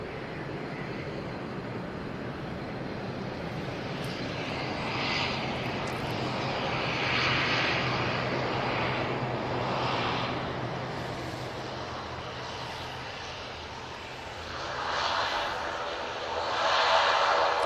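An airliner touches down on the runway at Manchester Airport, its engine roar a steady, somewhat distant rush that swells and eases over nearly eighteen seconds.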